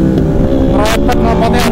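An Aprilia RSV4 races alongside on the Mandalika circuit, a loud high-revving engine roar with rapid gear-change pulses, heavy wind noise and a voice talking over it.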